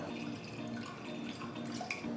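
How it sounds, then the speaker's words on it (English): Water poured from a container into a pressure cooker in a home kitchen while making potato samosa filling, a soft, steady trickle and splash that runs without a break for about two seconds, with no talk over it. "pour some water in a pressure cooker"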